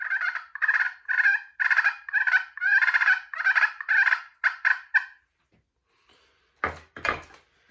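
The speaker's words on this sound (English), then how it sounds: "Fighting purrs is a good call to use occasionally when birds are hung up." A hickory striker on a crystal pot turkey call plays fighting purrs: about a dozen rapid, raspy rolling bursts in quick succession, followed by a pause and two short sharp scrapes, close and clear.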